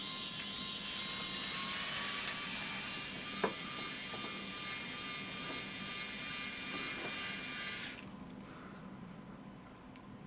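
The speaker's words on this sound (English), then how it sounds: "Now this has got a 10mm diameter motor" A tiny 10mm motor drives the tipping mechanism of a 1:43 scale model tipper trailer, giving a thin, steady electric whine with faint mechanical ticks that runs close and continuous for about eight seconds before cutting off.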